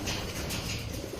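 A racing pigeon coos softly after a 450 km sea-crossing race from Catarman, Samar, a low brief murmur over steady background noise.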